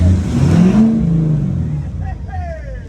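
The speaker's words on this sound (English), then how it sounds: "There's a car coming." A car on the road approaches and passes close by, its engine rising and then fading over a few seconds as a voice speaks over it.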